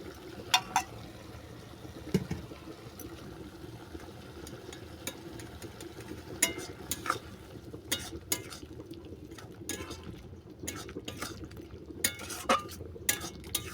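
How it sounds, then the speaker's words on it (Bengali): Quiet scraping and clinking of a spoon stirring prawns with white mustard paste in a pan, scattered light metallic taps and soft shuffling over a low background hum, no talk. "চিংড়ি মাছ সাদা সরষে ভালো করে মিশিয়ে নিলাম"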